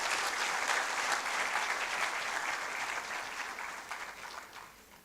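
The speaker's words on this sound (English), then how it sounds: "I thought we would give WACBEB a round of applause" A conference audience at an opening ceremony gives a round of applause, dense even clapping from a large room that holds steady then gradually thins and fades toward the end.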